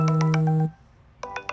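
A phone ringtone plays a short melodic chime pattern of repeated tones, cuts off abruptly, then starts again after a brief pause, heard clearly and alone nearby.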